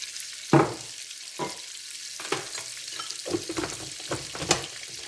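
Veal paupiettes browning in a pan give off a quiet sizzle broken by several knocks and clatters as the pieces are placed and moved, one louder thump near the start.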